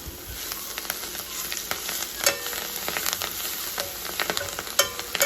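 Ponnaganti (Alternanthera sessilis) leaves fry in oil with steady close sizzling and crackling, plus a few sharp stirring scrapes, no voices.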